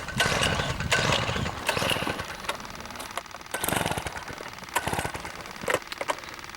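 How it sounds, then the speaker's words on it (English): A powered auger drills holes through thick black lake ice while ice fishing for burbot, giving loud, close, uneven bursts of rattling mechanical grinding and churning that surge and ease over several seconds. "We're gonna start drilling some holes"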